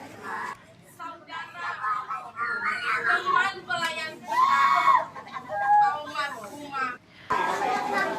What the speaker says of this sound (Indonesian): Ia pun tak henti-hentinya menangis meraung-raung di peti jenazah ibunda.